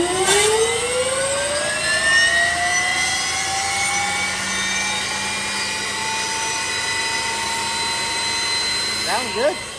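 A jet engine fitted in a Camaro spools up from a low whine into a loud, steady, high-pitched turbine roar that holds for about ten seconds, nearby and continuous, with a deep rumble underneath.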